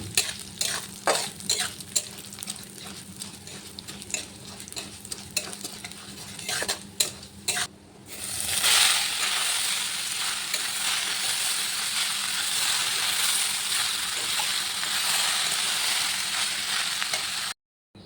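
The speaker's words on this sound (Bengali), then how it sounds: "মুগ ডাল দিয়ে চাল কুমড়ো ভাজি করবো" Ash gourd with mung dal being fried: a run of rhythmic spatula scrapes and knocks against the pan comes first, then a steady, loud sizzle fills the rest.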